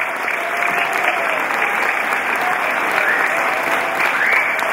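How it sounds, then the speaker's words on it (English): A congregation at a home-going funeral service claps steadily and densely throughout, a continuous wash of many hands at even loudness with faint voices mixed in. "And while we're clapping,"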